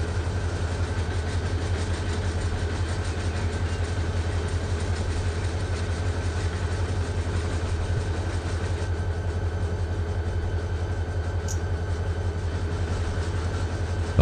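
A heavy diesel locomotive in the Run 8 Train Simulator game, holding a steady low rumbling engine drone with a faint rhythmic clatter as the train slows, constant and close.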